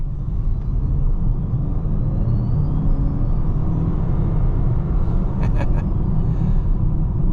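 A 2026 Nissan Rogue plug-in hybrid with a 2.4 liter inline four-cylinder engine and two electric motors accelerating, a loud, steady low rumble of engine and road noise from inside the cabin.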